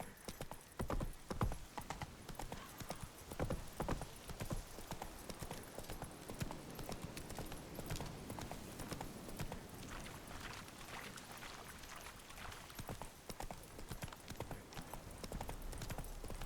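Roach, a horse in The Witcher 3 video game, gallops with steady, close clip-clop hoofbeats and an occasional whinny, over a continuous game ambience with no talk.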